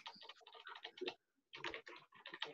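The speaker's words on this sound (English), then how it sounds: "Oh, I thought I could hear his keyboard." Quick, uneven bursts of computer keyboard typing with a short pause midway, close and clear with no talking.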